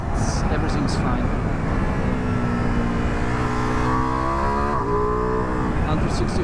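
A 2023 Ducati Multistrada V4 Rally motorcycle accelerates on the road, its engine note climbing steadily in pitch through the gears under heavy wind rush, loud and close throughout.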